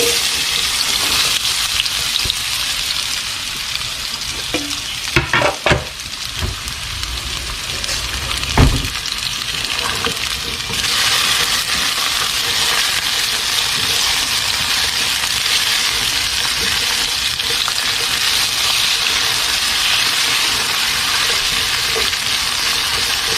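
Food for steak with potatoes in green salsa hisses in a hot pan with a loud, constant sizzle, with a few brief clanks as the pieces are stirred around.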